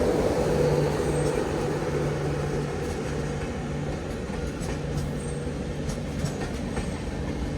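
The Madgaon–Mumbai CSMT Mandovi Express, hauled by a WP4 locomotive on the Konkan Railway, rolls past close by with a heavy steady rumble and faint rhythmic clacking of wheels, the noise easing slightly over time.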